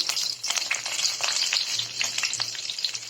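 Curry leaves fry in hot oil for upma, giving a dense, continuous crackling sizzle with rapid pops, loud and close, with no voices.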